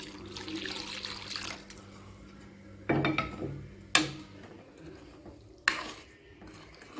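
Half a cup of water is poured into a pot of Tamil-style snake gourd (pudalangai) sambar on the stove, with a soft splash and trickle, stirring, and a few sharp clinks of utensils against the pot, no talking.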